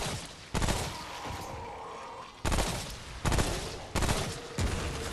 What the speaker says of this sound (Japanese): まさか爆発すると思わん